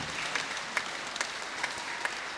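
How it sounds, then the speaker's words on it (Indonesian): A church congregation applauds at a Christmas Eve vigil Mass, a soft steady patter of many hands heard from a distance, with a few slightly louder claps standing out now and then. "Kita beri tepuk tangan untuk mereka juga"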